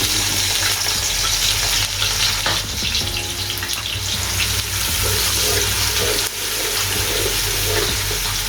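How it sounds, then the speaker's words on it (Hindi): Two medium onions dropped into hot cooking oil in a pot, frying with a loud, steady sizzle and crackle close by, plus a few brief clatters of stirring. "कुकिंग ऑयल जब गर्म हो जाए तो इसमें हमने ये 2 अदद दरमियाने साइज़ के प्याज डाल देने हैं"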